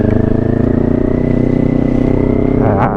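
A Kawasaki Ninja 400 motorcycle engine hums steadily at close range while riding, with a low pulsing drone and wind noise over it.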